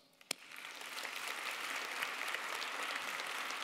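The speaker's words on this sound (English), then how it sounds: "Give yourselves a round of applause." After a sharp single clap, applause swells from an audience at an awards ceremony, quickly building into a steady, fairly full patter that carries on to the end.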